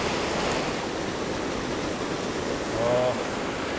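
Turbulent creek water rushing in the Eastern Sierra, a steady broadband roar filling the whole clip, close and loud, with a brief faint tonal sound near the end.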